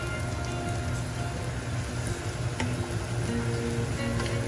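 Onions sizzle with a little salt in a pan, giving a steady, even hiss and crackle that holds at a constant level throughout.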